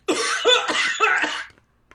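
A person coughs in a short series of three or four harsh, close bursts, then falls silent.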